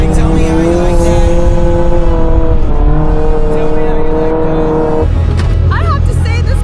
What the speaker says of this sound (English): I have to say this car is unnecessarily fast